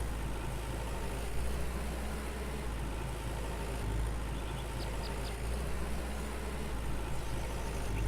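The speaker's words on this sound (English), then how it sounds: "park this small tractor up in this corner." A small tractor engine idles steadily in the Farmer's Dynasty farming game, a low continuous rumble holding at an even level throughout with no talk over it.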